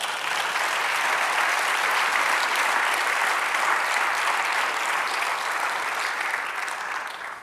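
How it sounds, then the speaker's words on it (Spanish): A church congregation bursts into sustained applause, a thick, even roar of many clapping hands that holds steadily and then tapers off at the end. "Dale un aplauso, Señor."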